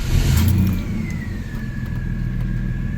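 A 1992 Chevrolet S-10 pickup truck engine starts up close by, with a loud surge of low rumble that settles into a steady running drone with a faint rising whine.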